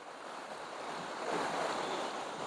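A waterfall in a canyon gives off a steady, dense rushing roar that swells slightly midway, continuous and without any voices.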